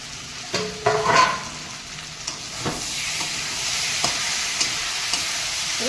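Ground pepper, cumin, cardamom and meat masala hit a hot pan of cooked-down spice paste and fry with a steady sizzle, while a utensil stirs and scrapes with a few sharp clinks near the start.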